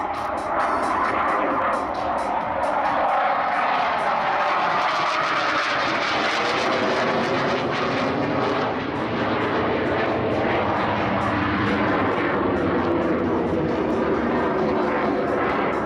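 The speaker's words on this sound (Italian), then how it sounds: "Torna a chiedere potenza ai motori spingendo il thrust lever dalla posizione idle 5 cm in" Aerobatic aircraft at the Jesolo air show power up their engines, producing a loud, continuous roar that shifts slowly in pitch and holds steady throughout.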